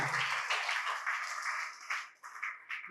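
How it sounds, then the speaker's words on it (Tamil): An audience at a Tamil Christian village gathering claps together, a steady, fairly faint wash of hand claps that thins and breaks into scattered bursts toward the end. "கைதட்டுங்களேன்"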